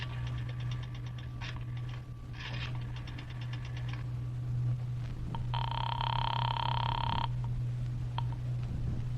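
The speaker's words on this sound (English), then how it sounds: "dropped a nickel in the slot, and dialed" A nickel drops into a drugstore payphone slot in an old radio drama, followed by a rotary dial whirring and clicking in repeated bursts, then a long steady ringing tone over a low continuous hum.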